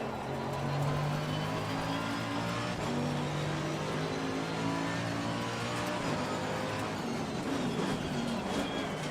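GT3 race car engines roar in the sim racing game Assetto Corsa Competizione during a race at Catalunya, a continuous loud drone with shifting engine tones as several cars run close together.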